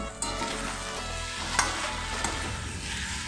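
Potatoes fry with poppy seed paste in a pan, giving a steady close sizzle with a few sharp pops and spatula scrapes, and no voices.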